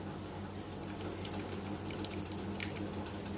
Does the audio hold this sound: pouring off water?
yes